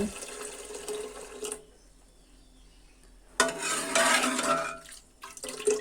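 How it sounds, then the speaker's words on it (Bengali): Hot water poured into pressure-cooked, mashed dal for a vegetarian mango dal, a close pouring splash that stops for about two seconds, then returns louder and denser before fading. "ডালের মধ্যে এখন আমি গরম জল দিয়ে দিব"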